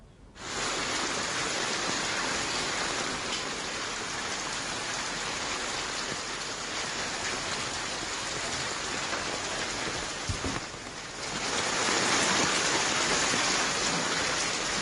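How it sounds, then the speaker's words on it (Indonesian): Heavy afternoon rain mixed with hail pours down steadily in East Jakarta, a dense, loud, continuous roar of drops and pellets hitting surfaces, with one brief dip before it swells again, no voices. "hujan deras mengguyur kawasan Jakarta dan sekitarnya sore ini"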